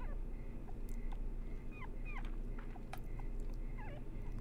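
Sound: dog barking in video game Rule of Rose

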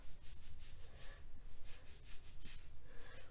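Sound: rubbing rice water into scalp and hair

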